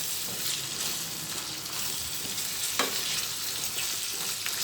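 Minced meat and sliced pickled olives being stirred together in a hot frying pan, a steady sizzle and frying hiss with soft scraping strokes and one brief louder clack, no talking.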